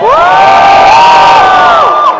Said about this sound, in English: If you're rooting for the Empire, cheer now!